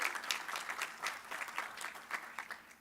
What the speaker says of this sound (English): Let's give him applause.